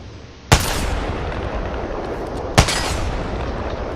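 Two sharp, loud gunshots from weapons in the video game Apex Legends, spaced about two seconds apart, each with a booming tail over a low background hum.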